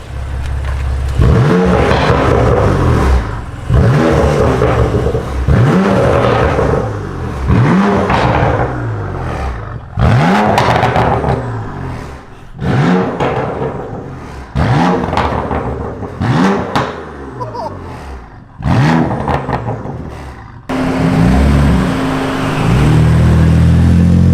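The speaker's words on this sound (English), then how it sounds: "Go on, turn the valves on, give it some revs, I want to hear it." A BMW M3 engine with exhaust valves open revs hard in repeated loud bursts, each blip rising then falling, with a deep burbling exhaust between them and a steady idle at the end.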